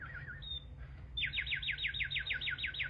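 A person imitates bird calls with a short warbling whistle, then a rapid repeated trilling chirp, fairly faint over a low background hum.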